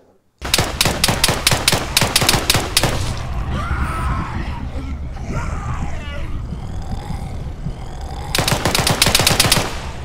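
Friendly gunfire rattles through an ARMA 3 video game match in sharp, rapid machine-gun bursts. A long burst opens, a stretch of muffled rumble and grunting follows, and a second loud volley ends it, all close and forceful.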